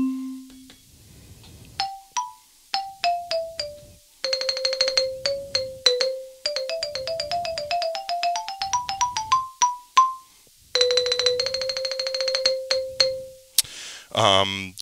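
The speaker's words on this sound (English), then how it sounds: "that sounds like a xylophone." A malletKAT electronic xylophone plays quick runs of struck, ringing notes, climbing and falling in pitch, with a soft voice murmuring beneath at times.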